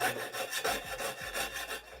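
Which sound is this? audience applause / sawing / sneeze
sawing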